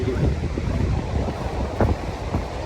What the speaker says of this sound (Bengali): এই যে হাওয়ার যে আওয়াজ।